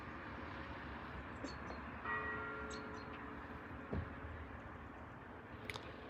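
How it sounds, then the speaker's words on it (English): Distant church bells ring faintly over a low, steady outdoor rumble, with a few soft, widely spaced bell strikes barely rising above the background and no one speaking. "Now, the church bells are happening."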